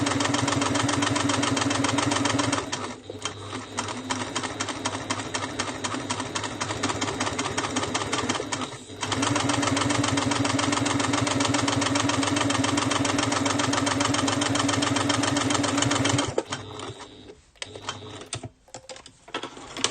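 A sewing machine stitches a lined zipper pouch, running in long steady motorized bursts with brief pauses between seams. The sound is close and loud and ends in a few short stop-start runs.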